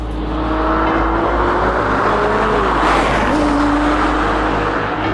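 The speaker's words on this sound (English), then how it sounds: "its V12 engine came straight from the Ferrari 641 Formula One car" A Ferrari F50's V12 engine, derived from the Ferrari 641 Formula One car, roars steadily and loudly throughout, the pitch rising and shifting as it accelerates, with no talk.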